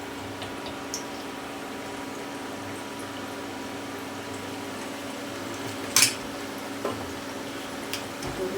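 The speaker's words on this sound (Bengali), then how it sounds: "এই তেলের মধ্যে, গরম তেলটার মধ্যে ছেড়ে দিচ্ছি।" Besan batter frying in hot oil gives a steady, faint bubbling sizzle, broken by a few small ticks and one brief sharp pop.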